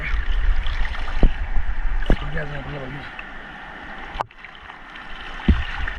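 Seawater at full high tide swirls and mixes along a shellfish-gathering shore with a steady rushing wash, interrupted by a few sharp knocks, while people talk over it.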